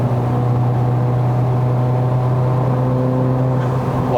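Stage 2 tuned MK7 Volkswagen Golf R engine pulling hard under acceleration on a Malaysian road, a steady loud droning growl with strong low harmonics heard from inside the cabin, continuous for the whole stretch.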